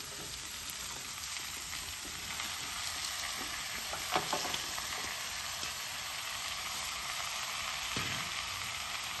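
Chopped bottle gourd fries in a pan, a low continuous sizzle with occasional stirring scrapes and clinks, quiet and steady with no talk.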